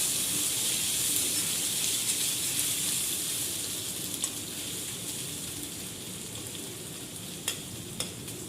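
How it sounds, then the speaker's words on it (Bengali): Steady sizzling hiss of spice paste frying in a wok for mutton curry, with a few faint scrapes and taps from stirring near the end. "মশলাটা কষানো হচ্ছে কড়াইতে এখন ভালো করে মশলাটা ভাজা হয়ে যাক"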